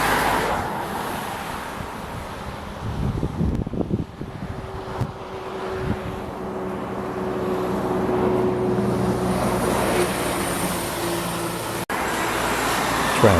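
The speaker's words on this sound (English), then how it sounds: "Traffic intensifies around the ruins" Road traffic passing near the ruins of Ephesus in Turkey, cars and buses rumbling by with swelling and fading engine noise mixed with gusts of wind buffeting the microphone.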